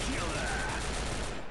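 Rapid gunshots in Point Blank: Strike form a dense, steady wash of firing that runs throughout, loud and close, with game noise layered underneath.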